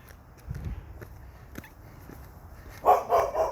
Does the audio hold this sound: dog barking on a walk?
yes